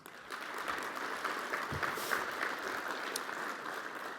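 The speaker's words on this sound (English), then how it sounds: "So one more round of applause for them." Faint, distant applause from an audience at an entrepreneurship club talk, a soft continuous patter of many hands. It holds steady throughout with no clear voices over it.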